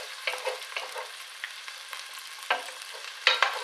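Tomato soup ingredients stirred in a frying pan, a spoon scraping and knocking in irregular strokes over a soft continuous sizzle, fairly close and with no voices.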